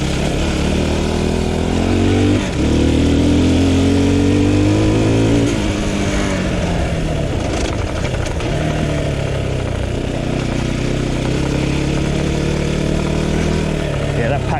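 An off-road vehicle driving through Bedfordshire woodland, its engine droning and revving steadily up close for the whole stretch, with rattling mixed into the loud mechanical noise and people talking over it.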